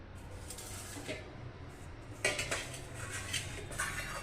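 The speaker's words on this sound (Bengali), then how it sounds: "প্রথমে আমি গাজরটা চিপারে ঘষে দেব" A carrot is rubbed over a coarse-holed hand grater in a series of rhythmic scraping strokes, fairly faint and close, with light metallic clinks between them.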